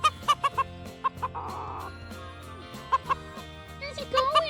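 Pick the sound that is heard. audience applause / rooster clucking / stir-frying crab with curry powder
rooster clucking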